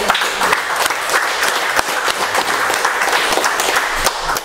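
A seminar audience in Indonesia applauds after a speaker's introduction, with dense, steady clapping that fills the room evenly from start to finish, free of talk.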